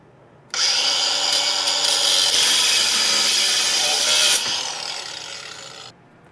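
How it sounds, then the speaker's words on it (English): A cable cutter slices through 2-gauge copper cable used with crimp lugs, producing a loud, close, continuous grinding rasp that starts abruptly, holds for about four seconds, then eases off before stopping, with no voices. "So let me go ahead and put this in, cut it, and see if it's any difference."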